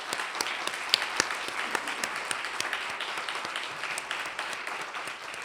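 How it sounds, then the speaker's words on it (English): A room of attendees at a patient-experience healthcare conference breaks into sustained applause, dense steady clapping holding at an even level throughout with a few sharper individual claps standing out. "Please give it a round of applause again for everyone here today."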